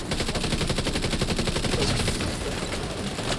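Automatic weapon fire against enemies in the video game The Division 2: rapid, continuous machine-gun bursts, loud and close, running steadily throughout without speech.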